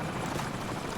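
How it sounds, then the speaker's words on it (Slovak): A helicopter in the video game Call of Duty 4 gives a steady, dense rotor roar, loud and constant for about a second with no talk. "Už máme helikoptéru."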